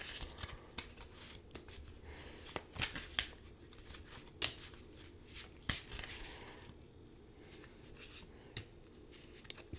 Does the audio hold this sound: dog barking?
no